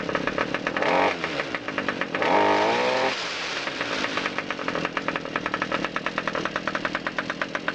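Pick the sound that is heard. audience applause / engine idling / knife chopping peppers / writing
engine idling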